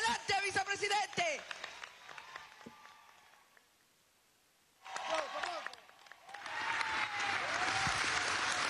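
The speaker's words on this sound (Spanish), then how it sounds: "Un aplauso de pie para las mujeres del estado Táchira, del estado Zulia." A crowd at a political rally in Venezuela, with women from the Táchira and Zulia states, claps loudly in a dense burst that fades to quiet, then swells again into sustained applause, with a voice speaking over it.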